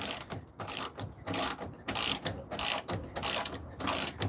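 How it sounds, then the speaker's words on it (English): A ratchet wrench loosens a bolt on a 1984 Buick Regal, with rapid clicking bursts in a repeated back-and-forth rhythm, close and distinct, and no talking. "Got one more bolt to take off all the way in the end."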